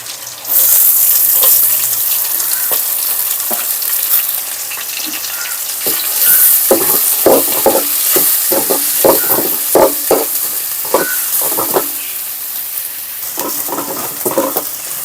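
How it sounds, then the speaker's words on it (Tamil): Onions going into a hot pan with cumin, garlic and green chili for a Tamil home-cooking dish: a steady loud sizzle with scraping stirs and clinks of the spoon near the end, no talking. "பூண்டு வதங்கிடுச்சு இப்போ வந்து வெங்காயம் சேர்த்துப்போம்"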